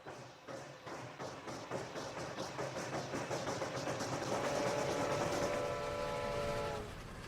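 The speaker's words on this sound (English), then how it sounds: "as he is traveling by train" A train rolls along steadily as an audio drama effect, rhythmic wheel clatter building in a repeating beat with a long sustained horn tone sounding through the middle and fading near the end.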